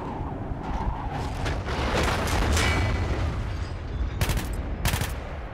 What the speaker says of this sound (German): Ich habe doch hier Schüsse gehört.